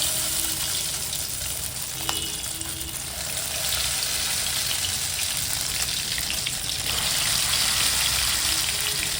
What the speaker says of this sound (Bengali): এবার এখানে তেল গরম করতে দিয়েছি, আমি ডিপ ফ্রাই করে নেব।